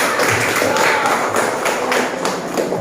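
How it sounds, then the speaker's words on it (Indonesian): A classroom of students bursts into close, dense applause, the clapping steady and full for a few seconds. "Tepuk tangan."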